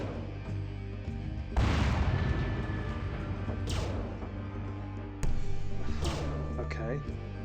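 Artillery bombards firing in the Warhammer Epic 40k strategy game Final Liberation, with heavy booms landing at intervals over a rumbling battlefield bed, one sharp blast near the start and another later.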